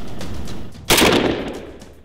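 One loud rifle shot fired at a target during weapons training cracks sharply and echoes as it fades over open ground, with low steady background noise.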